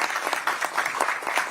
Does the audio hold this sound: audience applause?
yes